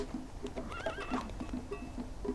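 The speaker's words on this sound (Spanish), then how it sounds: "si por el camino matamos un caballo" A horse in the Rust video game gives a wavering whinny over a bed of repeated low clip-clop hoofbeats, moderately close with no talk.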